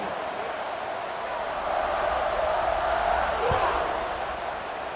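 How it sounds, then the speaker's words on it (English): A stadium crowd in EA Sports College Football 26 keeps up a broad, steady roar after a score. The murmur swells slightly mid-way beneath continuous game commentary. "this crowd is buzzing after that last score"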